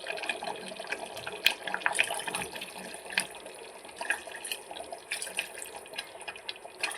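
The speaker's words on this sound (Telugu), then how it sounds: "వాటర్ యాడ్ చేసుకుందాము" Water is poured into a pot of chicken sherva on a stove turned to high flame, making a bright, splashy trickle with small irregular spatters throughout.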